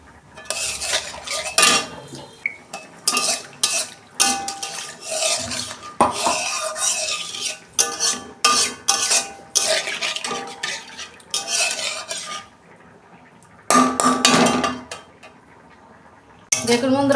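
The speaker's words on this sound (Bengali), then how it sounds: "এই মিক্সির বাটিটা ধুই অল্প জল দিচ্ছি।" A mixer jar being rinsed with a little water over a pan of cooking masala for a hilsa fish curry, heard as busy clinks, scrapes and rattles of metal with brief pauses, close by.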